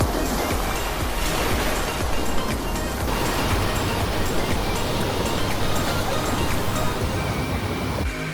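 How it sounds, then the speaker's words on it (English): Ocean waves wash steadily against the shore in a broad, continuous roar, with light wind buffeting the microphone. "Let's take a moment for you to enjoy the sound of the ocean."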